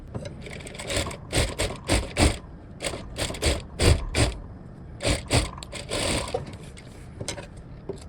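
A sewing machine runs a double line of stitching on a blouse, with quick rhythmic mechanical bursts and scraping, stopping and starting repeatedly at close range.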